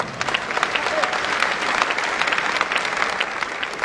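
A seated audience at a wellness talk breaks into dense, continuous applause, a steady wash of many hands clapping at even loudness from start to finish.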